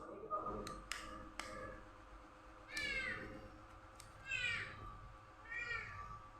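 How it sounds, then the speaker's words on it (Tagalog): A cat meows near food being cooked, giving several clear, drawn-out meows close by, with soft clicks and taps between them and quiet background noise. "Amoy pa lang masarap na kaya pati pusa nag-iikot-ikot na."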